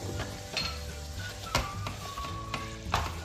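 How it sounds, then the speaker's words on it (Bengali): Cut potatoes go into a frying pan and are stirred, giving soft scraping knocks and clinks at irregular intervals over a low background hum, close and fairly quiet. "আমি কেটে করে রাখা আলুটা দিয়ে দিলাম এর মধ্যে।"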